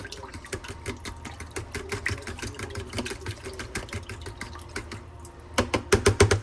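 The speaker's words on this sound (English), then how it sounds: "And then I just want to break this up and whisk this together." Milk whisked into a mixture in a bowl, the whisk producing rapid, steady clicking and tapping that grows louder and sharper near the end, close up with no talking.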